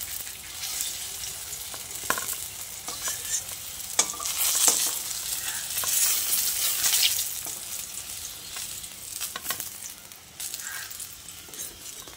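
Eggplant pieces fry in hot oil for a vegetarian eggplant dish, a steady close sizzle with occasional clinks and stirring scrapes of a utensil in the pan.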